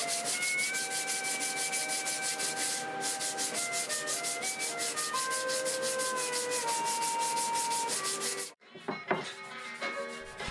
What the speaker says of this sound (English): so I had a lot of sanding in my future.